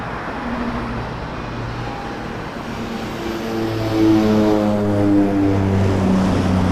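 A Metroliner propeller plane arriving on a runway at Toronto Pearson airport, its droning engine tones rising in pitch and growing louder as it nears, over a background of traffic-like rumble.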